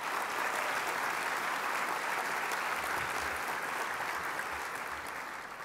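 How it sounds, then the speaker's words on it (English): Sustained applause fills a large banquet room at a charity breakfast event, a dense, steady wash of many hands clapping that stays loud throughout before easing slightly at the end. "Let's give him a nice round of applause."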